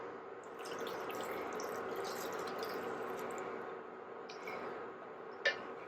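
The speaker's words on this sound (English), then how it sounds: "I'm just going to pour that right into my yuca." Warm milk pours steadily into a pot of cooked yuca (cassava), making a continuous soft liquid trickle and splash, quiet and close, with one small clink near the end.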